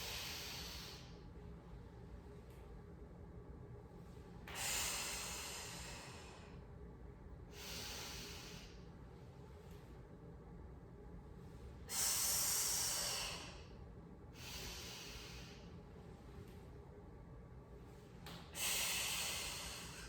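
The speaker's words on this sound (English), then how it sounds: "We're going to take a nice deep breath in." Deep, forceful breathing during a barbell core exercise, with several long hissing exhales through the nose and mouth in a slow rhythm, close and clear.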